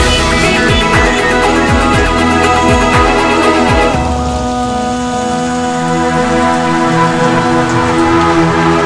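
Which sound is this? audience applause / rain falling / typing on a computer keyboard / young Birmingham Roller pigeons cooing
rain falling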